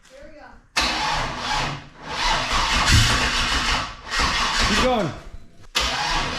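A turbocharged 5.3 V8 in a third-generation Camaro with Holley Sniper fuel injection fires up for the first time, cranking and catching in loud close bursts that rev and die back, with people talking over it.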